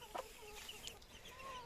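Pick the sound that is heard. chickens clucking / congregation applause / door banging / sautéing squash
chickens clucking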